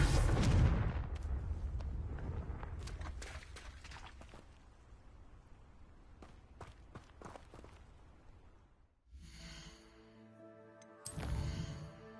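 An explosive Confringo spell in the Hogwarts Legacy video game, a loud booming blast at the start that fades into rumbling, followed by footsteps and later game tones and effects.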